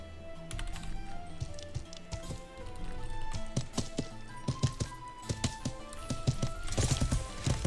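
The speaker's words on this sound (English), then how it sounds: "Get on the horsey." Horse hooves clip-clop in a steady uneven patter inside the Life is Feudal medieval game, close and fairly loud, with a faint hum underneath and no talking.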